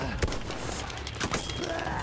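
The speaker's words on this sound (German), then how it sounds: "ich höre nur Schüsse, aber sehen tue ich nichts" Gunfire in the video game Battlefield 1, heard as scattered sharp shots and thumps over a constant noisy battlefield background at moderate, fairly quiet level.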